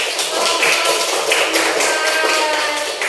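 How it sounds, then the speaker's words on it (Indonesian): A classroom full of students applauds, a steady dense patter of many hands clapping at close range for about three seconds with no voices over it. "Beri aplaus untuk"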